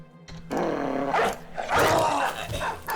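A dog in the video game Northern Raiders growls and snaps during an attack. The snarling is loud and close, and it comes in two or three surges over dense, busy game noise.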